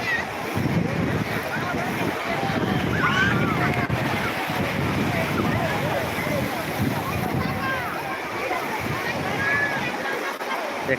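Sea waves roll in steadily on a crowded beach at Digha, a dense continuous wash of surf with wind buffeting the microphone and a faint murmur of people underneath.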